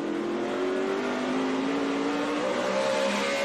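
A NASCAR Cup race car engine screams at about 9,500 rpm around Martinsville Speedway, a loud, sustained high-pitched drone whose pitch drifts slightly as the car runs through the turns, with no talk over it.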